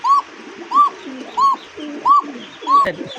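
A pigeon gives five evenly spaced, high-pitched calls, close and clear over a quiet background.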